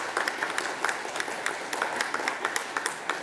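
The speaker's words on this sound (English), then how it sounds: "Or it's okay, we can applaud twice." A conference audience at a technology keynote gives a modest round of applause. Individual claps are audible in an uneven rhythm, moderately quiet and without talk.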